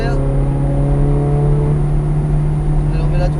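A Ferrari F430 Scuderia drives on a race track, its engine a loud, steady, close droning roar heard from inside the car throughout.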